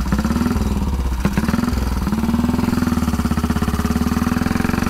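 A Velocette KTT single-cylinder racing motorcycle engine runs close by with a rapid, steady mechanical thump and clatter, with a brief blip in revs near the start before settling back into an even beat.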